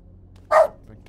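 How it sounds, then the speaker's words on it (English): Shadow the dog lets out a single short, loud bark, close by and alone against a quiet background. "Shadow started barking. A typical dog."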